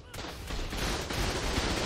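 Automated turret fire in ARK: Survival Evolved with the Primal Fear mod hits the player as a dense, continuous barrage of loud, close gunshot bursts that keeps up throughout.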